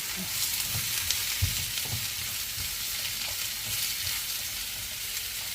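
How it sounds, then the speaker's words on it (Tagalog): Stir-frying in olive oil sizzles steadily with a bright hiss, while soft low knocks and scrapes from the utensil come through at irregular intervals. "Ito ang tunay na stir fry. sa olive oil."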